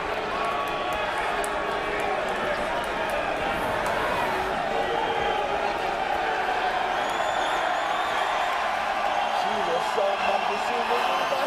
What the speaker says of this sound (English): The crowd reacting to Gabriel Campillo